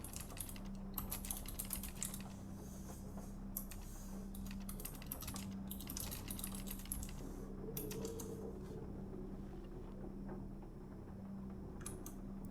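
Quiet, steady typing on a computer keyboard in the video game Stories Untold, with bursts of soft key clicks and brief pauses over a low electrical hum.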